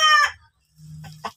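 A fighting cock in a pen gives a short harsh crow-like call, then after a brief pause a low throaty clucking rumble ending in a sharper note, close and loud.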